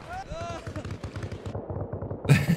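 Rapid bursts of gunfire in the video game Arma Reforger crackle beneath excited talking, the shots growing louder and denser toward the end.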